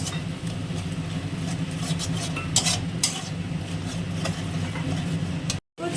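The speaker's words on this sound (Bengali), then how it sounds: "দিয়ে ভালো করে কষতে হবে মশলাটা অনেকক্ষণ ধরে" Spoon stirring and sautéing chicken masala spices in a pan, rhythmic scraping strokes over a steady low hiss and hum, close by.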